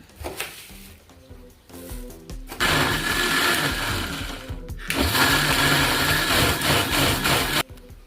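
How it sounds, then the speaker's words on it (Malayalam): A mixer grinder blends mango pieces with sugar: a few short whirring pulses, then two longer loud grinding runs separated by a brief stop. "ഈ മാങ്ങയിലോട്ട് കുറച്ച് പഞ്ചസാര ഇട്ട് ഇത് നന്നായി മിക്സിയിൽ അടിച്ചെടുക്കുക"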